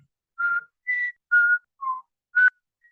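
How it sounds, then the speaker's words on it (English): A lone person whistles the Jeopardy theme song, five or six clear, separate notes rising and falling in a slow, steady rhythm, close and clean against silence. "I'm going to whistle the theme song from Jeopardy while we wait for someone to raise their hand."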